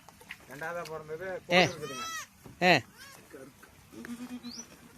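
Three newborn male goat kids bleat on a goat farm, a few loud, close, wavering cries standing out while a person talks nearby.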